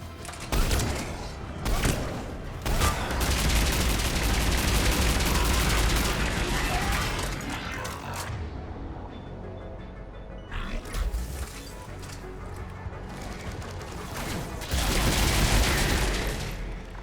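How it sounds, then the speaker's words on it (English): Dense, continuous gunfire from a Mass Effect 3 battle, with overlapping weapon shots and impacts that rise and fall, pause briefly, then resume loudly, with no voices. "Javik, you're shooting at a wall."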